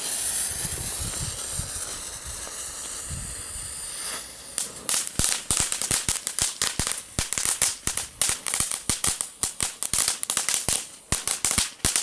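A hissing fuse or fountain-like spray for a few seconds, then a rapid, intense burst of sharp cracks and pops from a Magic Whip firecracker, loud and close.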